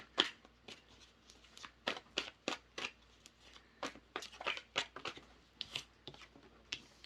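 A tarot deck is shuffled by hand close up, a quiet run of crisp, irregular riffling snaps and card slaps in quick bursts with short pauses between, no voices.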